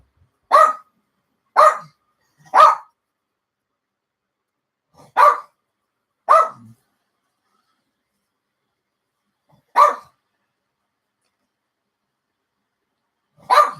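Indoor dog barking at someone to be let out: seven sharp, separate barks in irregular bursts, three quick ones close together, then spaced single barks with quiet gaps between.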